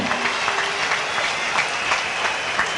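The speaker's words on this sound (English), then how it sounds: "Give a round of applause to the member for St. Christopher Ward." Continuous applause from the crowd at a swearing-in ceremony for a new minister, steady and even throughout with a few faint voices mixed in.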